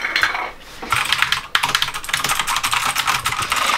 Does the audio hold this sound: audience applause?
no